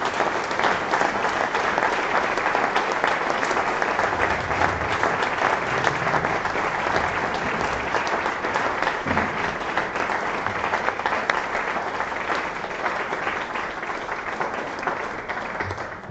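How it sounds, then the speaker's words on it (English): An audience in Brussels gives warm, sustained applause for La Monnaie's youth choir La Choraline, a steady dense wash of clapping from a large hall that continues evenly for a long stretch. "Please give them a warm applause."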